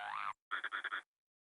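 A cartoon frog croaks in The Little Rascals video game, giving one long warbling croak followed after a short gap by four quick pulsed croaks, close and clear against silence.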